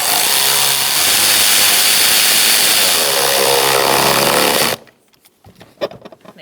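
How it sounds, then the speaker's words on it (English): A power tool drives a hose clamp tight in the engine bay of a 2005-2010 Chrysler 300 with a 5.7 L engine. It gives a loud, steady whir for about five seconds, then cuts off, leaving a few faint clicks. "Now we're going to tighten down the hose clamp."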